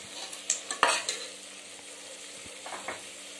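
Sautéing in a pan for tomato rice, with a soft sizzle and a few sharp spoon scrapes and taps early on, then quieter frying, close and fairly faint.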